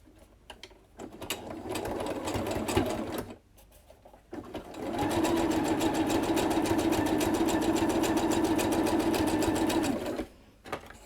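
A sewing machine stitches stretchy cotton knit fabric with a zigzag stitch: two runs of rapid, even mechanical chattering, a short burst and then a longer steady stretch, separated by brief pauses, close up and without speech.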